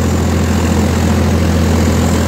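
A new Swaraj 744 XT tractor engine idles close by, a loud, steady low diesel rumble droning evenly throughout.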